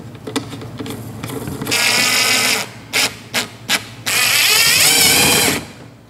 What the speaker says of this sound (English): We can take this and screw it on the back.